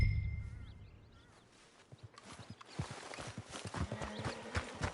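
Horse in the video game Red Dead Redemption 2: a brief whinny opens, then a run of near clip-clopping hoofbeats on the ground grows steadily, with no speech.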